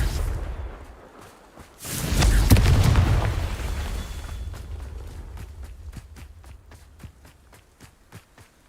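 A deep booming blast from the Confringo explosive spell in a Harry Potter video game swells loudly and rumbles for a couple of seconds, then fades into a run of quick, evenly spaced footsteps.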